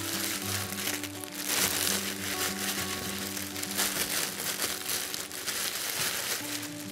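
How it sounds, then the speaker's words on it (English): Plastic bag being opened out and oiled in a test kitchen, giving continuous close crinkling and rustling with scattered crackles throughout. "I'm going to put some vegetable oil or sunflower oil on an opened out plastic bag"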